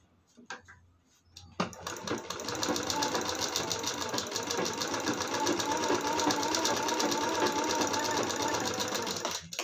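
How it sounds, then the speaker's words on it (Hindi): After a quiet moment with a few faint knocks, a sewing machine starts up and runs continuously, stitching a blouse seam with a steady, close, rapid ticking hum. "हाफ हाफ इंच पकड़ के स्टिचिंग कर देंगे"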